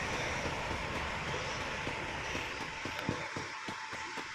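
Inside a train in the Free Fire video game, a steady low rumbling ride ambience plays, with rhythmic rail clacks growing clearer toward the end.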